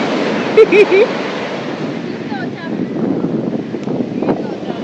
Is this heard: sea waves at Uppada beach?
yes